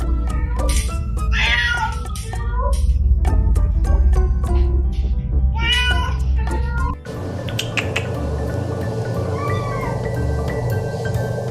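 A cat meows repeatedly at close range, a quick run of insistent, varied meows in the first half followed by a longer drawn-out wail, heard alone in a quiet room.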